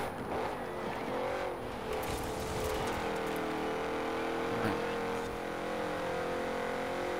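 Race cars drive in Forza Horizon 4, including a Beetle and a Supra climbing a hill in fourth gear, a steady engine drone with shifting pitch and occasional tire noise, continuous and fairly close.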